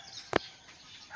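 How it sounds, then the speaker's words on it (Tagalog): A chicken on a Filipino backyard farm gives one short, loud cluck, close by, with faint background noise around it and no talk. "Ulit-ulit pinapakain ito yung manok."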